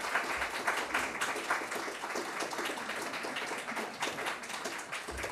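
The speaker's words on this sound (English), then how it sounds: "Let's get a round of applause for our authors." An audience claps for the authors at the close of a self-publishing panel, with dense, moderately loud applause held steady throughout and a few faint voices mixed underneath.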